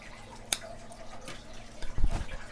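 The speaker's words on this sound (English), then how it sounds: "as I water her, I continue to water from the stick" Water is poured onto a potted red stem or pothos plant: a single sharp drip early, then a brief splashing trickle near the end, close and fairly quiet.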